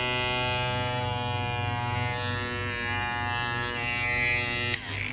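Inexpensive electric hair clippers with a double-layer blade run with a strong, steady, close buzz throughout, ending in a sharp click as the switch is flipped.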